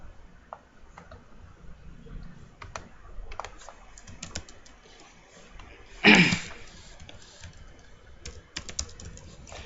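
Keys clatter on a computer keyboard in scattered, uneven bursts of typing, fairly close and quiet, with one louder thump midway.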